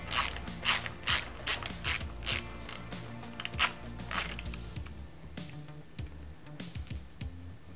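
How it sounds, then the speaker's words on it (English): A ratchet backs out the front shock bolt on a Meta AM 29 mountain bike frame during a link installation. It gives close, crisp bursts of rapid clicking in a steady rhythm, then slower, scattered clicks, with no talking. "So we'll remove this front bolt here."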